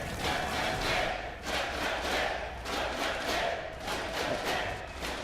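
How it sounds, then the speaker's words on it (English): A large crowd at a StarCraft II tournament match cheers and roars continuously, loud and sustained with swelling waves of noise, no clear talking above it. "The crowd cheering for MMA."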